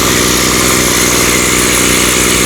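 A Weed Eater Featherlite string trimmer's small two-stroke engine runs steadily up close, a loud continuous buzzing drone with no pause.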